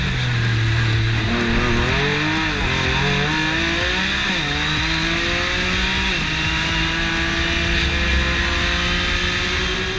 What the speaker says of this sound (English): Cole Powelson back out in the LYFE GTR.